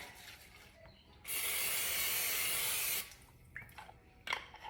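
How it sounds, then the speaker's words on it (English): A steady hiss from an aerosol can of non-stick cooking spray lasting almost two seconds, close and loud, followed by light kitchen clatter. "I'm gonna get my non-stick spray."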